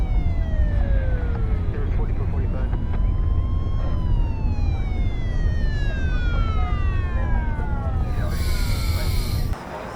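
A wailing ambulance siren sweeps up and down repeatedly over loud traffic rumble, with a voice talking underneath, ending in a burst of noise before dropping off.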